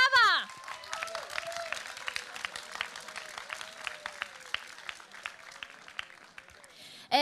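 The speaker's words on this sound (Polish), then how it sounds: "Coś te brawa były kiepskie." Audience applause at the Mister Polska 2020 final gala, a steady patter of many hands clapping at moderate volume, with a voice heard briefly at the very start and end.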